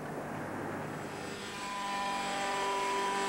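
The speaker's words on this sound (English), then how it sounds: "The pilot uses two joysticks to fly the helicopter." A remote-controlled camera helicopter about six feet long, weighing roughly 30 pounds and carrying a 35 mm film camera, flies with a continuous whining rotor and engine drone that swells gradually louder, heard alone without talk.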